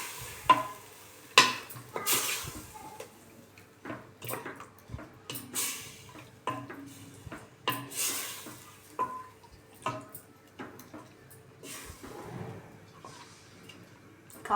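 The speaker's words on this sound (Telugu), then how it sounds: "మంచిగా మిక్స్ చేస్తున్నాను" Chicken biryani is stirred in a Healux cookware pot, a spoon scraping and knocking against the pot in irregular strokes over a faint sizzle, close up and moderately quiet.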